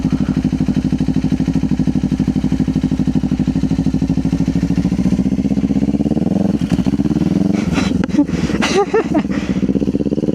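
A motorcycle engine runs steadily while riding, then revs up unevenly as a little throttle is given, loud and close, with the rumble briefly rising and breaking up near the end.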